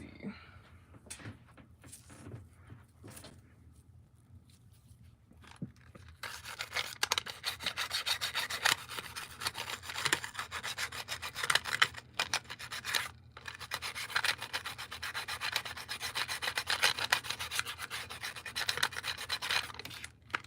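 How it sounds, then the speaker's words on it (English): Someone scrubs a Furby toy's fur by hand during refurbishing, a soft scratchy rubbing that starts quiet and intermittent, then turns into a louder, steady back-and-forth scrub. "The worst part is you basically just have to keep scrubbing it."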